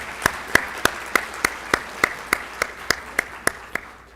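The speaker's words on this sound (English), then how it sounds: "A huge round of applause for this, sir" Slow, evenly spaced single claps ring out after a talk on the new Income Tax Bill, about a dozen loud, sharp hits at a steady rhythm with no voices.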